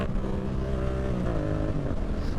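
A Yamaha MT-07 motorcycle engine hums steadily with rising and falling harmonic tones as the rider downshifts and rolls along at low speed, preparing to wheelie, heard close from the bike under wind rush.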